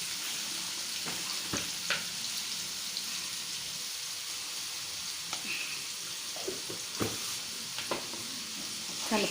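Egg fries and sizzles in a pan with turmeric while a utensil stirs it, a steady close hiss broken by occasional scraping taps, with no talking.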